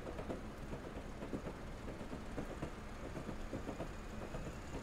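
A train in a simulator game climbs an upslope with a steady, dense rumble of engine and wheels. The rhythmic clicking of the rails runs throughout, fairly quiet and with no one speaking.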